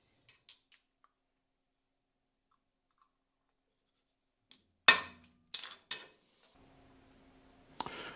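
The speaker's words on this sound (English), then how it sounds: "let's break off that drive tab" A drive tab snaps off a Sirui video head during a repair, heard as a few sharp close cracks and clicks, then scraping and small handling knocks, in an otherwise quiet room.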